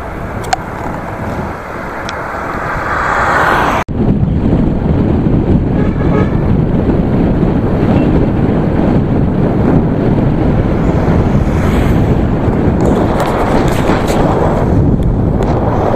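Strong wind blowing north through a gorge in Sichuan, China roars in a loud, continuous rush, buffeting the microphone, with the gusts intensifying after a few seconds.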